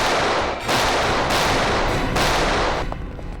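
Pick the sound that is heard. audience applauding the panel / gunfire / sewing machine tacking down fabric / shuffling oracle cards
gunfire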